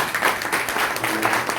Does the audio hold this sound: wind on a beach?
no